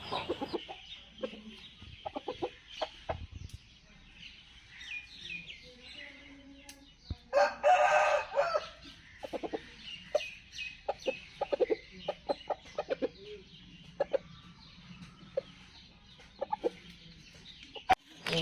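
A rooster crows loudly partway through, surrounded by repeated clucking and scattered chicken calls, with smaller birds chirping nearby.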